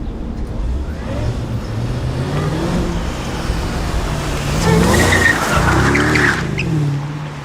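Muffled road rumble from a car taking hard turns, picked up from a camera mounted inside the tire, with rising tire scrubbing and squeal toward the end, steady and close.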